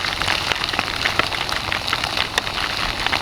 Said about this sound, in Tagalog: Hanggang ngayon, walang tigil pa rin ang ulan.